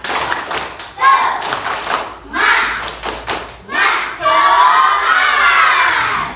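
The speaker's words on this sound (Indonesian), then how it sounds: "kita tepuk semangat dulu ya. Tepuk semangat." A classroom of children perform a rhythmic clapping cheer with their teacher, giving bursts of patterned claps mixed with loud shouting, ending in sustained excited yelling.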